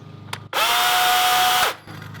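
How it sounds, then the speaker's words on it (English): A DeWALT 40V Max brushless battery chainsaw is switched on with its chain brake engaged, giving a loud, steady motor whine that holds for just over a second and then stops abruptly, with a short click before it. "pull the chain brake towards you and then start the chainsaw"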